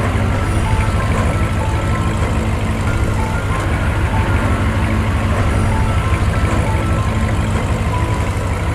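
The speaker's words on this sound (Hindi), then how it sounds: "इधर गुल्ली बुल्ली गाड़ी में बैठकर शॉन को बचाने के लिए इधर ही आ रहे हैं।" A cartoon vehicle drives in with a steady, loud engine rumble and reversing beeps over it, a continuous mechanical drone that fills the whole stretch with no talking.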